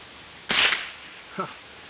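A single sharp crack from a Ranger .22 rifle, loud and close, followed by a fainter metallic click-clack of the action about a second later.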